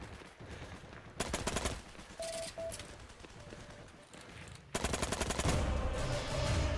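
Automatic gunfire in the WWII shooter Heroes & Generals, with two long rapid bursts of loud, close machine-gun fire separated by quieter stretches with a few distant shots.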